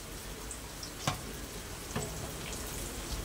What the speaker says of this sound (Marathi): तोपर्यंत आपला कांदा फ्राय होतोय